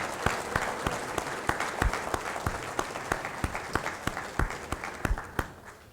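An audience applauds to welcome Craig Kurz, HoneyBaked Ham Company leader, at a speaking event: steady, moderately close clapping with a few sharper individual claps standing out, continuing throughout without speech.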